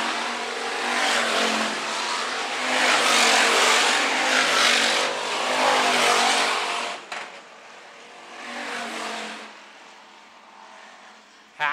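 Hobby stock race cars roar around the dirt oval at Phillips County Raceway, engines loud and continuous with rising and falling revs as the pack passes, then fading to a quieter drone before a sharp burst at the end.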